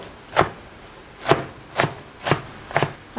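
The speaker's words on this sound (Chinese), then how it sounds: "再用刀稍微切碎" A knife chops squeezed, salted zucchini and carrot on a cutting board. Five sharp, close thuds come at a slow, even pace with quiet gaps between them, and no voices are heard.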